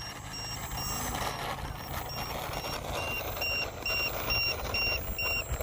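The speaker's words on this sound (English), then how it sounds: "You hear that LiPo alarm just a beeping away." Steady, evenly spaced high-pitched electronic beeps from a LiPo battery alarm on an RC plane repeat over a constant background rumble, like a small battery alarm chirping nonstop.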